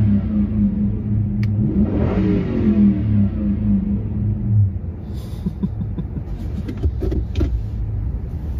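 A Lexus LS400 engine revs up once and falls back to a low rumble, close and loud, with a few light clicks and knocks toward the end.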